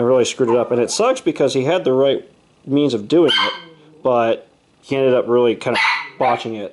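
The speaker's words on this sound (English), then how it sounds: "So you have to excuse my dog there," A pet dog barks in a garage workshop where model trains and ballast are being worked on, with short barks scattered between steady close-up talking from a man.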